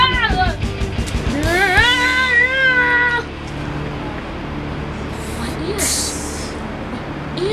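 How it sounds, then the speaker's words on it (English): A cat meows loudly a few times in quick, drawn-out wails near the start, followed by quieter background noise with a brief faint cry later. "Meow! This cat's annoying!"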